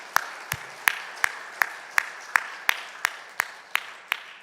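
Claps ring out at a slow, steady rhythm during a Sunday morning church service in a Korean congregation, about a dozen evenly spaced sharp hand claps, fairly close and alone, more like one group clapping in unison than scattered applause.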